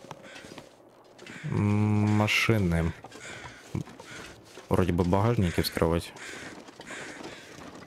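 Crows caw in the survival game The Long Dark in two harsh, drawn-out bursts, with someone talking over and between them.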